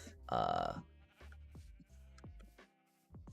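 A sheep in a mining and crafting video game bleats once, a loud wavering synthetic baa, followed by a few softer blips and game noises, alone without talk.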